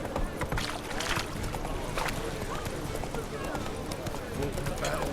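Horse hooves gallop in a steady clip-clop in The Witcher 3, mixed into a dense bed of game sound with voices in the background.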